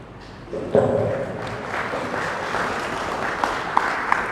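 A crowd claps steadily in a hall at a school ceremony in Agra, the applause building after a moment and continuing at moderate loudness with a few faint voices.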